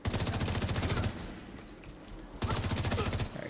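Rapid bursts of shock-bullet gunfire from a weapon in The Division 2, loud and close: a long volley, a short pause, then a second volley.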